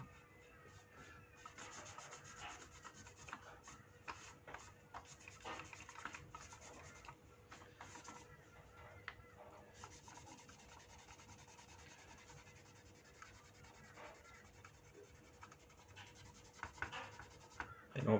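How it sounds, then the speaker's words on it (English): Paper towel rubs a paint wash off a BR Class 31 model locomotive, giving a soft, continuous scratchy rubbing up close for a long stretch, faint with small irregular strokes and no talk over it. "You can also use a little bit of paper towel or toilet paper for this one as well, where you need to rub it off."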